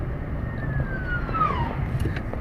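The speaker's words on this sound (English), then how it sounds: "Now, we might get a siren here." A siren passes at a distance, its faint wail sliding downward in pitch over a constant low rumble of traffic noise.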